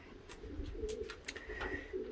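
Racing pigeons coo softly inside a loft, a low steady murmuring with a few faint higher calls, fairly quiet and continuous with no talking.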